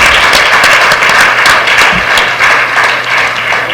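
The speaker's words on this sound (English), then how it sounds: "How about another hand of applause for such fine, intelligent" Loud, close audience applause rings out for a panel at a decolonization forum, dense clapping that holds steady throughout without any talk.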